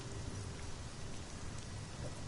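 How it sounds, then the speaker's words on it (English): Rain falling in the video game Sunless Skies, a soft steady patter spread evenly throughout, faint and unbroken. "On the third day it rained."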